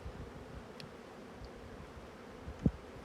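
Honeybees at a hive that holds two queens, a faint steady buzzing close by with light rustling and one short knock near the end.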